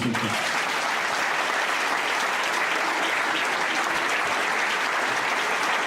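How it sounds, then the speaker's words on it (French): Comedy club audience in France breaking into loud, dense applause that fills the room evenly and without pause from start to finish. "Je vous demande de lui faire un tonnerre d'applaudissements."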